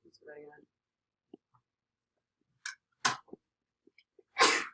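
In a classroom, a person gives one loud, sharp sneeze near the end after a brief sharp sound, with scattered quiet noises and brief speech before it.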